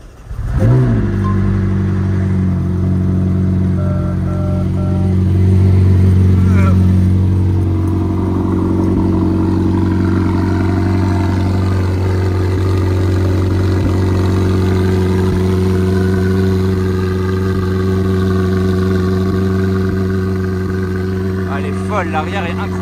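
A supercar from a Dubai car collection starts up with a sharp bark, then settles into a steady, loud engine drone with a swell of revving, heard close in a garage while someone talks over it.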